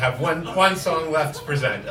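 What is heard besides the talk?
No everyday noises stand out.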